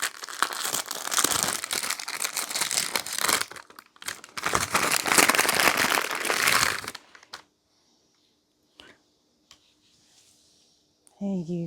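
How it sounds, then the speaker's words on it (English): Crinkly packaging rustles loudly and close at hand as an advent calendar is opened, in two long bursts of crumpling. A brief quiet stretch follows with a few faint clicks before more handling noise returns. "Number 13, a bit of crinkling."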